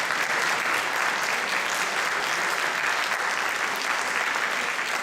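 A concert audience applauds continuously, a dense, even wash of clapping from many hands filling the space without pause.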